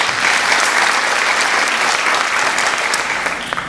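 Audience applause for a retired Georgia Court of Appeals judge at a Newton County Teacher of the Year ceremony, a loud, dense burst of clapping that holds steady and then tapers slightly at the end.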